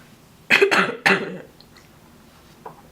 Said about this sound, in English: And my cough.